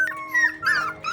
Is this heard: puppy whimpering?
yes